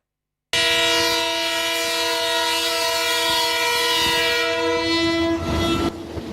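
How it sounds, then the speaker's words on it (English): A train rolls along steel rails with a steady low rumble, then blasts a long, loud, deep horn close by before the sound cuts off. "The rumble of wheels on steel and the deep blast of its horn"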